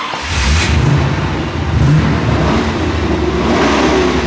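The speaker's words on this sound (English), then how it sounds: "start your engines." A hot rod engine revs up and holds a loud, steady roar, close by, with no talking.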